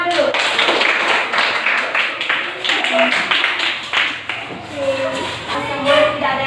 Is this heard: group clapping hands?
yes